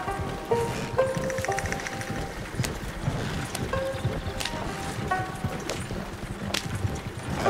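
Horse hooves clip-clopping in the video game Red Dead Redemption 2, irregular hoofbeats at a walking-to-trotting pace mixed with game ambience and occasional sharp clicks, moderately close and steady throughout.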